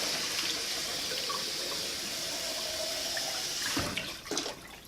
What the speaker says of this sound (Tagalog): I'm just gonna put a little bit of water on it